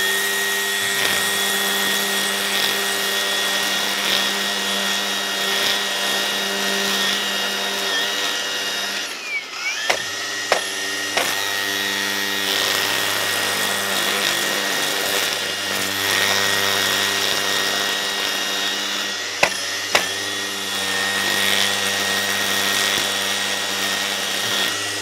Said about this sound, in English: I try to avoid hitting the sidewalk with the edger at all costs.